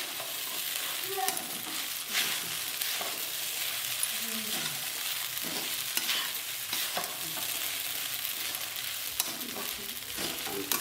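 Sabudana fries and sizzles in a pan for khichdi with crushed peanuts, a steady close hiss running under repeated scraping stirs of a spoon.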